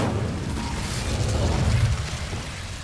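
An Incendio fire spell cast in Hogwarts Legacy, a steady low roaring rumble of flame that swells slightly midway and holds for about three seconds, with no voices.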